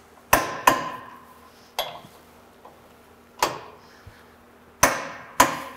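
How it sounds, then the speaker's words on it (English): Sharp metallic clicks of a torque wrench tightening bolts on a MacDon FD1 or FD2 FlexDraper header, sounding as six separate close snaps at irregular intervals with quiet gaps between. "We're going to torque these to 85 foot-pounds or 115 newton meters."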